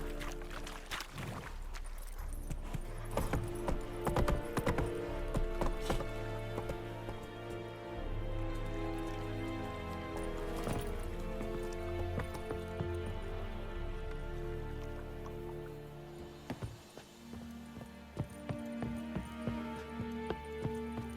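Roach, the horse in The Witcher 3, gallops along with a continuous rhythmic thud of hooves, mixed with rain-like ambient noise and game music over about twenty seconds.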